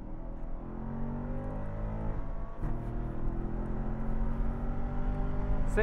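A race car laps Buttonwillow Raceway, its engine note droning loud and close with steady harmonics, rising slightly toward the end, with no talking.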